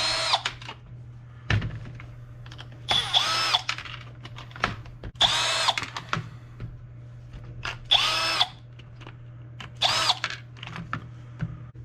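A power drill works the tires off an RC car, a Traxxas Rustler 2WD, in a series of short, close, loud whirring bursts separated by brief pauses, with small clicks and clatter of parts between them.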